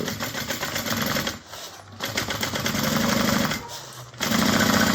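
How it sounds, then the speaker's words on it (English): A sewing machine runs in bursts, stitching the bottom seam of a fabric bag at a 3/8-inch allowance, its rapid needle chatter pausing briefly twice between steady runs. "Just sewing the bottom seam"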